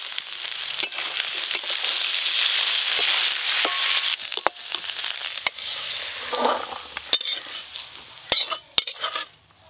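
Winter vegetables frying in a pan, a steady loud sizzle for the first few seconds that thins out, broken by sharp metallic clinks and scrapes of a utensil stirring against the pan.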